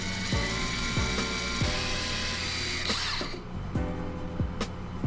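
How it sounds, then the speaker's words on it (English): A drill bores into the neck joint area of an electric guitar body, giving a steady mechanical whir with periodic ratcheting pulses and pitch drops, close and continuous with no talking. "that I wasn't drilling into the pickup cavity or anything."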